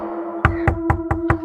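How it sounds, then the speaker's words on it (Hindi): Five sharp knocks on a door, a horror story sound effect, loud and evenly spaced over a steady low hum, with no voices. "कि अचानक से उसको फिर दरवाजे पर नॉक की आवाज़ आई।"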